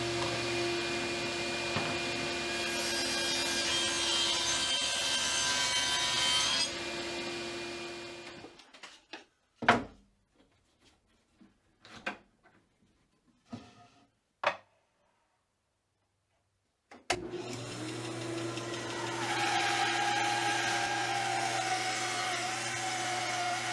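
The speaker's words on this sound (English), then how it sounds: "I'm going to make those cuts on my bandsaw" Bandsaw cutting wood stock to make it thinner in a workshop, a steady loud motor hum with a rising cutting whine, broken by a quiet stretch of scattered clicks and knocks before the saw runs again.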